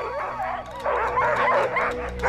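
Alaskan husky sled dogs in Norway bark and yip excitedly in a steady overlapping chorus, close and loud, with high whining cries mixed in and no talking.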